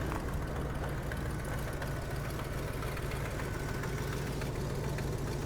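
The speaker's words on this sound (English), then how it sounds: "the engine does sound good. It's just that there's a leak in the exhaust somewhere." A 1973 Buick engine idles steadily with a rough, continuous rumble and a faint ticking puff from an exhaust leak, close and constant throughout, with no voices.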